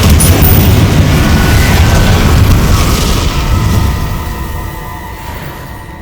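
A Confringo blasting spell explodes in the Hogwarts Legacy video game on Xbox Series S, a loud, deep rumbling blast that rolls on and slowly fades over several seconds.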